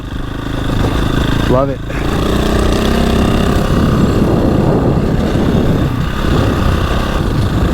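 A dual sport motorcycle rides Oregon backroads over rolling whoops and small uphills, its engine droning steadily and loud with wind rush throughout, a brief rising rev near the start, while a rider speaks briefly.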